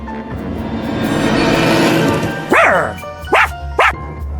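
Three short, sharp dog barks from the Subway Surfers video game ring out one after another over a steady background hum and busy ambient noise, close and fairly loud.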